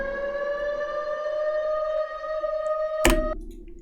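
A steady, loud siren tone with strong harmonics holds for about three seconds, then cuts off after a sharp burst, with no voices; an alarm sound effect used in a bigroom electronic dance track.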